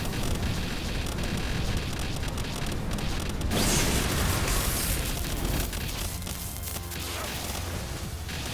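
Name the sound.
Holy Burst explosion attack in the video game Palworld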